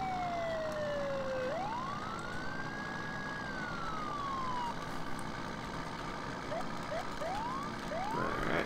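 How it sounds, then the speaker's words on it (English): A police siren on a Ford F450 Police Edition truck in the Farming Simulator video game sweeps up and down in long wails, then breaks into several quick rising chirps near the end, loud over a steady engine hum. "And turn on that siren."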